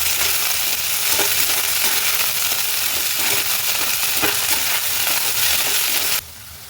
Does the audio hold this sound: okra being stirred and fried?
yes